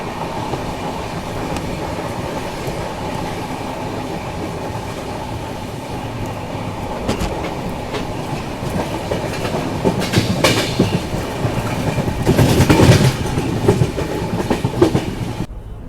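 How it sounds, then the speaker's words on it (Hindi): Amrit Bharat and Vande Bharat trains cross each other with a continuous rolling rumble, clickety-clack of wheels and rising rail noise that peaks loudly near the end as the other train passes close by. "अमृत भारत वंदे भारत एक साथ क्रॉसिंग।"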